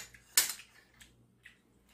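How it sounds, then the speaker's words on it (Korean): A ceramic rice bowl is flipped upside down onto a dish, giving one sharp clink of tableware followed by a few faint light taps in a quiet kitchen. "그릇에다 엎어주세요"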